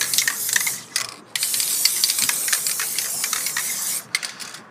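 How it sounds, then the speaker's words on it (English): A spray paint can hisses over a stencil in a run of short and long bursts up close, with brief pauses between sprays. "So what we're first gonna do is spray this stencil"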